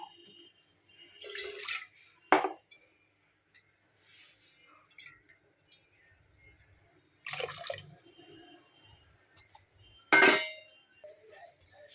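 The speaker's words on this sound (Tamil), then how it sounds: "கொஞ்சமாக தண்ணி ஊற்றிக்கிறேன்" Water splashes into a cooking pot for sweet corn pulao in short bursts, with faint clinks of cookware in an otherwise quiet kitchen.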